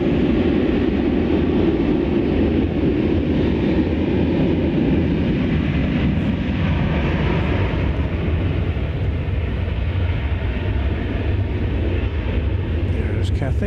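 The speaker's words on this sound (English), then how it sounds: "American 511 going to Calgary in Canada next. This will be an Airbus A321." An American Airlines Airbus A321 bound for Calgary rumbles on takeoff at DFW Airport, a broad, heavy low roar that holds steady and slowly thins toward the end, heard from a distance.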